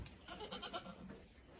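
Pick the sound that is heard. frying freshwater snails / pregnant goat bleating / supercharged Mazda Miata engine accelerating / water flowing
pregnant goat bleating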